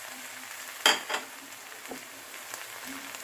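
Mixed vegetables for labra fry with turmeric, cumin and coriander powder, a soft continuous sizzle punctuated by a couple of sharp stirring clatters near the start and faint taps later.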